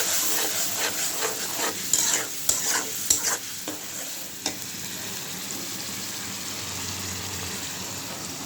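Fish curry of puti and tengra fish sizzling in a pan as chili powder, salt and a little water go in, with loud steady frying and several sharp scraping stirs early on, then an even hiss.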